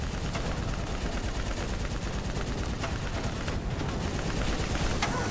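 Heavy gunfire in Call of Duty: Black Ops III: dense, rapid bursts of shots crackle continuously at close range, with overlapping volleys and no pause.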